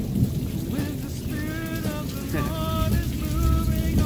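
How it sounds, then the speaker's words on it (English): A massive thunderstorm pours down heavy, steady rain, with low thunder rumbling underneath, loud and continuous throughout while someone makes a cooking video indoors. "cooking videos in massive thunderstorms"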